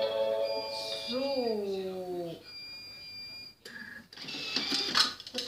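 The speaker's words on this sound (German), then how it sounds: "Endlich meine Waschmaschine ausmachen, damit die endlich aufhört zu bimmeln." A washing machine beeps when its cycle finishes, giving high electronic tones heard near a kitchen with a Thermomix TM5 running, alongside sliding tonal machine sounds and clattering.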